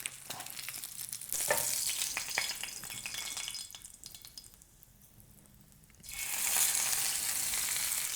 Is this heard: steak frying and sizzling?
yes